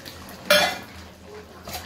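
Garam masala paste is stirred in a cooking pot: one sharp metallic clank of a spoon against the pot, a faint scrape, then a softer knock at the end.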